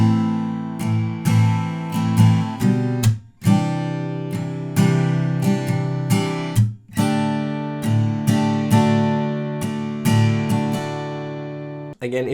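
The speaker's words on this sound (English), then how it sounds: "the first line of chords will sound like this" A guitar strums the opening chord progression of a song in a rhythmic down-and-up pattern, with bright, ringing chords changing every few beats, close and alone with no voices.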